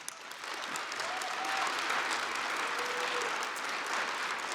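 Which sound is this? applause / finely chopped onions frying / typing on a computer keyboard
applause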